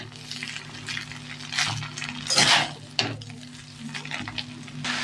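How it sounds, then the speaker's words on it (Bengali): Mixed fried rice sizzles in a pan under continual stirring. Scraping sweeps and a few sharp metallic knocks of the utensil sound up close over a low, steady frying hiss, with no talking. "নেড়ে নেড়ে ভেজে নেবে।"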